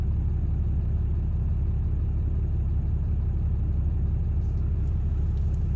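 A Cummins 6.7L diesel engine idles low and steady, a continuous deep rumble that stays close and even throughout with no voices over it.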